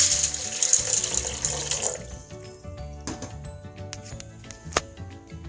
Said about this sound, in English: And the water in the pan.